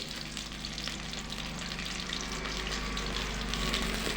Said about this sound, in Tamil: எண்ணெயை ஊற்றிட்டு கத்திரிக்காய் போட்டு வதக்கி எடுத்துக்கலாம்.